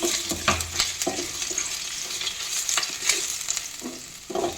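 Garlic and ginger paste sizzles in hot oil for a momo chutney, with a steady close frying hiss broken by repeated scraping knocks of a spoon stirring the pan.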